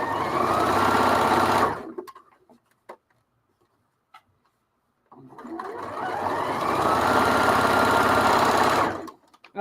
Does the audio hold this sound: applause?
no